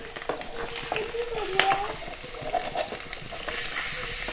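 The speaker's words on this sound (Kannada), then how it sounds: "ಫಸ್ಟ್ ಕ್ಲಾಸ್ ಆಗಿ ಫ್ರೈ ಆಗಬೇಕು." Boiled eggs frying in ghee in a pan for a Mangalorean-style egg ghee roast, giving a steady, soft sizzle with occasional stirring scrapes, fairly quiet and close.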